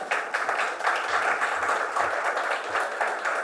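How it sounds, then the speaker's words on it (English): Steady round of audience applause at the Jamaica Diaspora Conference 2022, with many hands clapping evenly and continuously at moderate volume throughout. "Round of applause, please."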